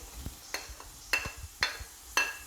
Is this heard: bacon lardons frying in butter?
yes